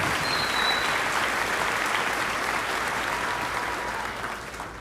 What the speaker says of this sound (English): Please join me in a round of applause to thank these faculty members for their service today.